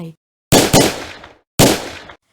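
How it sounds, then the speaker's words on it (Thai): Two loud gunshots, the first doubled into a quick pair, each with a booming tail; a short pause separates them, no voices. "หญิงสาวสะดุ้งสุดตัวต่อเสียงปืนที่ดังขึ้น"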